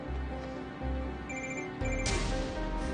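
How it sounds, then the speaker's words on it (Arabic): A telephone rings indoors in repeated electronic bursts, moderately loud with a low background hum and no talking. "التليفون عم يرن، شوفي"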